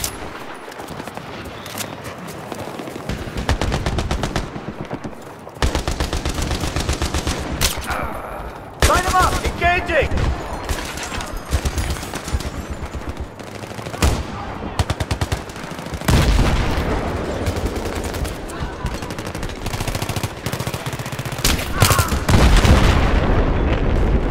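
Battlefield 3 combat with bursts of machine gun fire and gunshots in a rocky firefight, loud and dense, mixed with explosive booms and shouted voices throughout.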